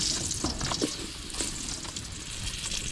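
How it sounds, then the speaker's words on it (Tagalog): Steady sizzling of bananas frying in hot oil, a continuous crackle with occasional louder pops and stirring. "Nagpiprito po tayo ng banana saging."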